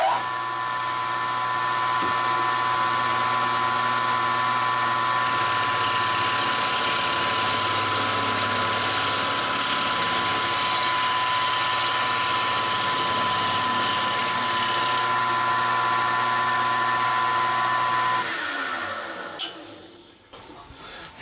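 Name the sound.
milling machine cutting with an end mill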